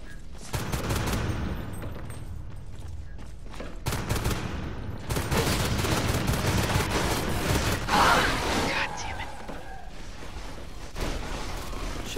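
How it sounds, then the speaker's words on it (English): Shotgun fire in the Natural Selection II video game: repeated sharp blasts in an irregular run, with busy game noise around them, fairly loud and with no talk. "Shotguns are deadly against skulks at close range."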